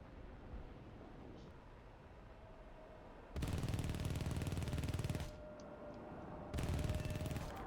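Twin 30 mm DEFA cannons on an A-4H Skyhawk jet in a combat flight game fire two long sustained bursts, a loud dense rattling roar over steady engine drone, with a short pause between them.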